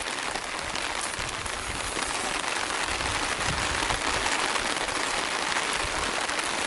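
Steady rain patters down continuously, a dense even hiss with no breaks.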